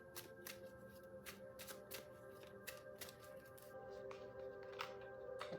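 Tarot cards being shuffled and drawn by hand, a steady run of soft papery riffles and flicks, close and quiet over a faint background hum, no talking.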